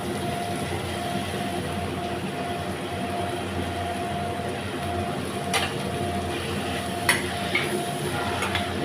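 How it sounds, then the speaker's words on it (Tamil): Mint leaves and grated coconut stirred in a pan for a chutney, heard as a steady, close hissing scrape with a few sharper ladle clicks near the end. "எல்லாமே இப்போ நல்லா கலந்து விட்டுறலாங்க ஜஸ்ட் ஒரு நிமிஷம் மட்டும் நீங்கள் கலந்தீங்கன்னா போதுங்க"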